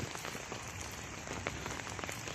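Steady rain pours down on a durian orchard with green grass underfoot, a dense, even hiss of drops striking leaves and ground, with brief louder pattering spikes and no voices.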